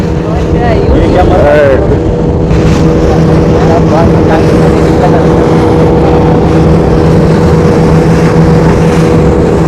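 A fast motorboat ride in the Andaman Islands, with loud, continuous engine drone and wind rush close up and people talking throughout.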